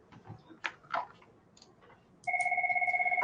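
A mobile phone rings indoors, a steady two-tone electronic ringtone pulsing rapidly and fairly loud, starting after a few soft clicks and faint room noise.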